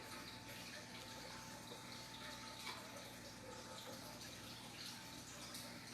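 Tap water runs steadily into a deep glass Pyrex baking dish holding carrots, a continuous close gushing fill with no breaks.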